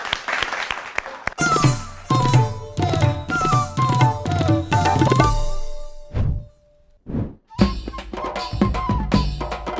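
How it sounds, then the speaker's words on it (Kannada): A short burst of clapping at a singing reality show quickly gives way to loud music with singing and a steady rhythm. "ಬರ್ಲಿ ಜೋರಾದ ಚಪ್ಪಾಳೆ"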